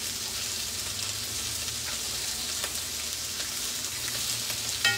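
Sardines frying in oil in a pan, a continuous dense sizzle and crackle held steady at close range with no talking.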